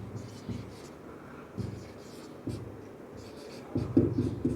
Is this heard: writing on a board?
yes